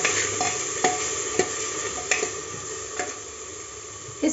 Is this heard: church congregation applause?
no